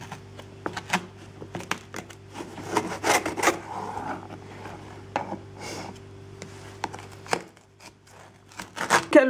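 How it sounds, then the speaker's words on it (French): A knife saws and scrapes through frozen gingerbread, giving dry, woody rubbing strokes and sharp little cracks, close and fairly loud, with irregular pauses and a steady low hum underneath. "J'ai un peu de mal à le couper parce que je l'avais congelé."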